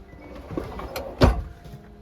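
A drawer slides open inside a camper van, a brief rumbling glide ending in a firm thud, close by with no talking.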